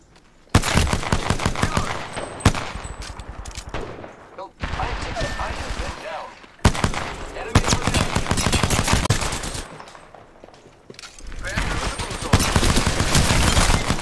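Rapid gunfire in a mobile shooter video game, loud bursts of machine-gun-style shots clustered in several volleys separated by short quieter gaps, with a player talking between them.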